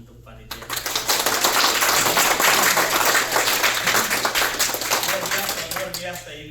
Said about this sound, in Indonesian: Kita tepuk tangan untuk panitia.